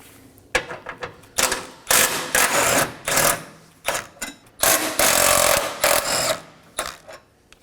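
A power tool, likely an impact wrench, loosens the two 13mm radiator support bolts on a 2011-2017 Dodge Durango in sharp, loud bursts with short pauses between them, and no talking.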